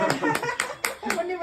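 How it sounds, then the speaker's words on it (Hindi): A few people at a family anniversary celebration clap in slow, separate claps, about five evenly spaced, close and moderate, with voices and a bit of laughter underneath. "क्लैप वगैरह देनी ताली बजा।"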